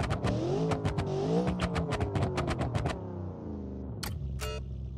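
A race car in a video game revs hard and accelerates with nitrous, its engine climbing through rapid gear changes in a loud, close, rising whine before dropping to a lower idle with a couple of sharp clicks.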